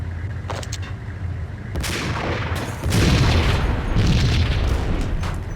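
Explosion in the video game Max Payne, heavy booming blasts with rumbling gunfire-like bursts filling the scene, loud and close, with no talk.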